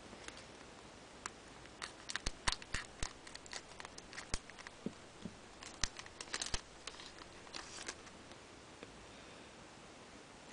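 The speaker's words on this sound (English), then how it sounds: "The reason I'm using scissors instead of just ripping these packs up like crazy is because I really like these packs" Scissors snip and crinkle through the foil wrappers of Pokemon Black and White booster packs, a scattered run of sharp clicks and rustles, close and quiet with no talk.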